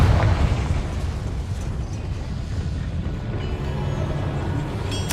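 A Confringo fire-blast spell exploding in the Hogwarts Legacy video game, opening with a loud burst that rolls into a sustained rumbling blast with crackling debris lasting several seconds.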